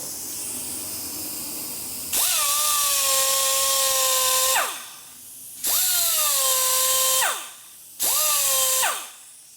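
A power tool deburring a metal part during the rebuild of a 2001 Gilroy Indian motorcycle, heard as three separate whining bursts with steady tonal pitch, the first lasting a couple of seconds, each spinning down, over a noisy shop background.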